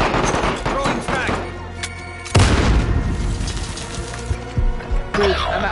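Frag grenade thrown and detonating in Call of Duty Modern Warfare, a heavy boom landing midway amid scattered gunfire and game noise, with a player speaking over it.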